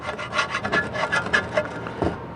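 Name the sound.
old gasket being scraped off GM 11.5-inch rear differential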